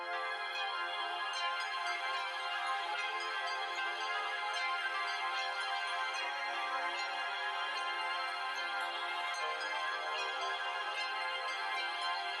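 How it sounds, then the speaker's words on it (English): Ambient synth pad from an Analog Lab preset, pitched up and played at halftime with lows and low mids cut, a dense bright sustained wash holding steady for the whole stretch with no voices. "it was a ambient pad"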